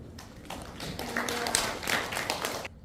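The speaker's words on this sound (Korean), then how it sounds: "환영의 박수로 맞이해 주시기 바랍니다" A church congregation at a Wednesday worship service gives welcoming applause for a preacher, a steady patter of many hands clapping at moderate volume, with no talk over it.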